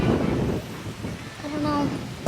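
Strong beach wind buffets the microphone in low roaring gusts that swell and ease over a couple of seconds, with faint background sounds mixed in.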